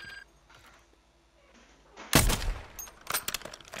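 After a quiet stretch, a sudden loud burst of gunfire erupts in a rooftop sniping match of a shooter video game, followed by further scattered sharp shots and impacts.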